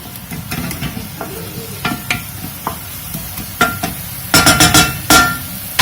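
Tomato goes into a hot pan with lunch meat for a Mauritian rougaille, sizzling steadily under repeated scraping stirs and metal clinks that grow louder and busier toward the end, with no voices.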